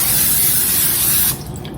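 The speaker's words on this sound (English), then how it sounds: "So just use some non-stick spray and spray the bottom of it." Non-stick cooking spray hisses into a regular Pyrex baking dish in a one-second steady burst, close and loud, then cuts off to quiet room tone.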